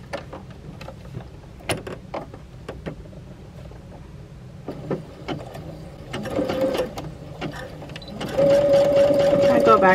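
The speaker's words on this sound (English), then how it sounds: "then stick it under your sewing machine" A sewing machine stitches swimsuit fabric in short bursts that build into a steady continuous run, close and clear, with a person talking over it.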